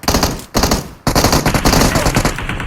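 Rapid automatic gunfire in PUBG Mobile comes in loud, close bursts: a short volley, a brief pause, another, then a longer sustained spray.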